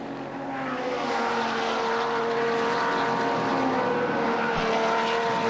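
Holden Commodore VK race cars at the 1985 Bathurst race roar past at speed, a loud sustained engine drone with steady pitch that swells in and holds near the listener.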